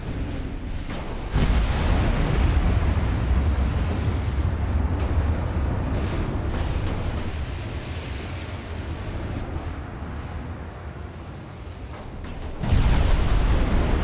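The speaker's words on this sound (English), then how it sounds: "I want to hear these guns fire the old-fashioned way" Naval 20-inch guns firing HE shells in the Ultimate Admiral Dreadnoughts naval game: a heavy booming blast, then a long rumbling roar, and a second loud blast near the end. No talking.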